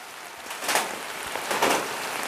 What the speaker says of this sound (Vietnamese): trời còn đang rất là mưa